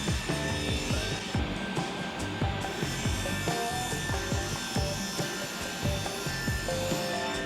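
A hand tool cuts a small channel into the back of a wooden frame with steady, rhythmic rasping strokes, fairly quiet and close, with no voices.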